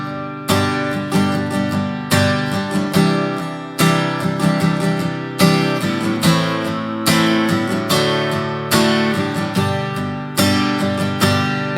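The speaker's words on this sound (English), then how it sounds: "And that solo section is going to sound like this." Strummed acoustic guitar plays the solo section of a country song, steady rhythmic chord strokes with a bright ringing tone, loud and alone without talking.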